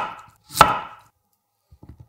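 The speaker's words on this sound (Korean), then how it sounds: "다시 같은 두께로 채 썰어 담아줍니다" A knife cuts half a Korean zucchini into thin strips on a board. One firm, sharp chop lands first, followed by a short pause and then three quick, lighter taps.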